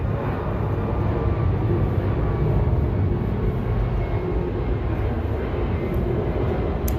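A plane passes overhead at dawn, a steady broad roar that fills the air without letup, loud and continuous with no voices over it.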